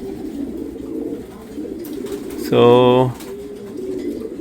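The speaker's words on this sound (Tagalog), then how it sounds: "Ayan guys, dami nating ibon." Racing pigeons give a short cooing call in the middle of an outdoor group training release, rising clearly over steady background noise and a bit of talk for about half a second.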